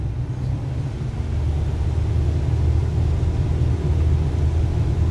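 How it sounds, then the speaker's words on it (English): A Cessna 172 piston engine throttling up to full power on the takeoff roll, a steady loud low drone with rumble that holds constant throughout, close and continuous. "Now we must set the throttle gradually to full power"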